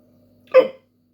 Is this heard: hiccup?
yes